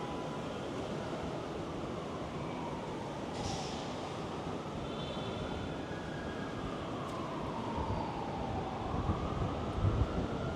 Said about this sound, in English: It really got windy out.